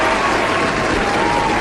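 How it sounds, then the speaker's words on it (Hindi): Applause effect on a Hindi radio show, a steady dense wash of clapping filling the whole short stretch at even loudness, with no voices over it. "तालियां बजेंगे उन लोगों के लिए जिन्होंने सही बता दिया है भाई जवाब"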